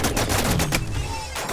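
Automatic gunfire in the video game The Signal From Tölva comes as a rapid burst of several sharp shots in quick succession, loud and close, followed by a fading tail.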